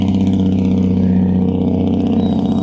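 Noisy trucks drive by with a loud, close engine roar and deep harmonic rumble that holds steady throughout, with no voices.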